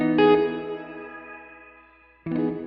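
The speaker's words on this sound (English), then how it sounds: "It's like the reverb is there automatically, but the shimmer just kind of comes in late." A NUX Duotime dual delay pedal on guitar with shimmer reverb: a bright chord rings out and decays slowly over a swelling reverb wash, then a second strum enters near the end, alone with no talking.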